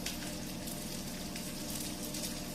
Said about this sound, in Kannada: ಚೆನ್ನಾಗಿ ಫ್ರೈ ಆಗಬೇಕು ಈರುಳ್ಳಿ ಒಗ್ಗರಣೆಗೆ